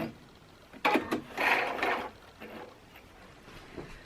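A sewing machine sews a basting stitch on a men's shirt being altered to a smaller size. It gives a brief, close mechanical rattling run of about a second, followed by a few faint clicks and handling noises.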